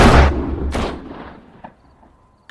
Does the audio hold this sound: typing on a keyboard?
no